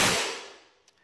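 A single sharp, loud crack from an Arcflash Labs EMG-01 electromagnetic coilgun shot punching through 20 gauge steel in a garage, decaying quickly into quiet with a faint small tick near the end.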